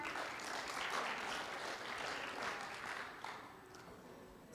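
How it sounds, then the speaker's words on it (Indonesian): Quiet, steady applause rises from a crowd at a product launch event for an app. The clapping sounds moderately distant and soft throughout, with no speech over it. "Tepuk tangan."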